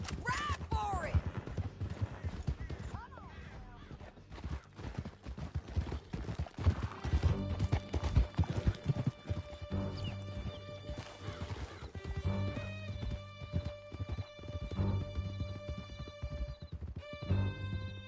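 Horses gallop with rhythmic hoofbeats and whinnies during a canyon escape ride in Red Dead Redemption 2, the thudding steady and near, mixed with game music and occasional crashes.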